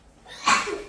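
A single sharp sneeze bursts out midway through a quiet indoor room during a tidying session, brief and close, with a faint trailing breathy tail and no other sounds around it.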